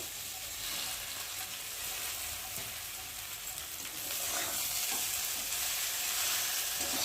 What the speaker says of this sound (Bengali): চলো এখন আমি আবার ভেজে রাখা ভেন্ডিগুলো এর মধ্যে ঢেলে দেবো।